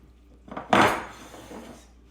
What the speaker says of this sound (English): I went ahead and greased my bowl